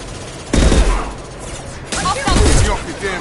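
Gunfire in the Mass Effect Legendary video game during a squad firefight, with heavy bursts of rapid shots in two loud clusters over constant battle noise and a voice calling out between them.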